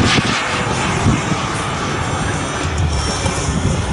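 A radio-controlled model airplane flying overhead at an outdoor flying event, its engine making a loud, continuous whine with a slight pitch shift as it passes, along with faint background noise.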